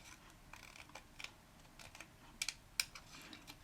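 Scissors snipping paper for a scrapbook card holder, heard as a few sharp, close, quiet clicks and snips spread over a few seconds, with no talking.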